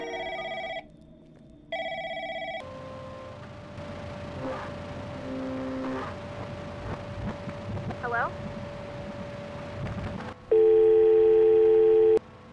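A telephone in the horror game Lancaster Leak rings in repeated electronic bursts, two near the start and a louder one at the end, with a narrator talking in between over a low hum.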